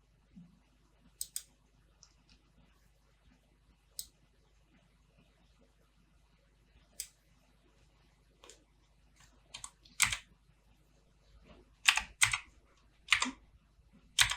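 Keystrokes on a computer keyboard while text is entered in Adobe InDesign, sparse at first and then quicker clusters of close, crisp taps with no speech.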